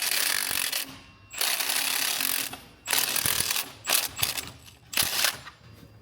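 A ratchet tightening the wet belt tensioner on a Ford Ranger engine, close and loud clicking in several runs of varying length with brief pauses between strokes.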